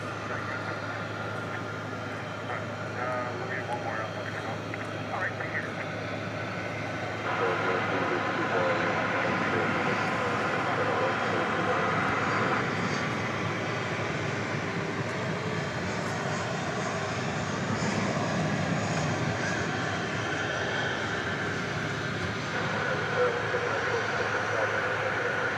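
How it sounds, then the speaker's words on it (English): An American Airlines Airbus A321 from Seattle lands at DFW Airport at night, its engine roar swelling and lingering at a distance, with a voice talking over it. "we've got Flight 1992 coming in from Seattle, American Airlines. It'll be an Airbus A321"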